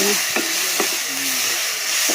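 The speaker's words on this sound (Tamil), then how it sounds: "இப்போ ரசத்துக்கு வந்து தாளிச்சுக்கிட்டு இருக்கேன்" Steady crackling sizzle of spices tempering in hot oil for pepper rasam, close by and continuous, with a few faint clinks of a spoon stirring.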